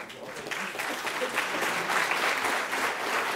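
Audience applause breaks out during a live French debate on youth and the presidential election, a steady wash of many hands clapping that holds at an even level throughout.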